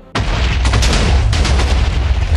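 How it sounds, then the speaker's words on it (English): A sudden loud boom bursts in and rolls into a sustained, rumbling roar of blasts, explosions in a block-building video game. "What do they do next? Explosions!"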